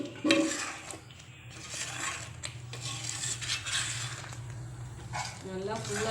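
Stirring a sweet of moong dal, semolina and jaggery in a pan, with soft scraping and clinking of a spoon against metal running steadily under continuous talking.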